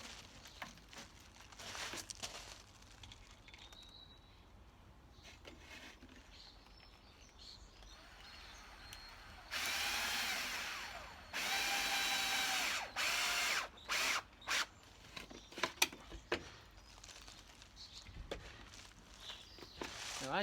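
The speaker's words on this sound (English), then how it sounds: "Or you can do it the way I'm going to do it, is with an actual drill with a bit." Short, intermittent whirring bursts of a drill with a bit driving into soft wood while building a plastic bottle greenhouse, several stop-start runs mixed with shuffling footsteps and handling clatter, fairly close.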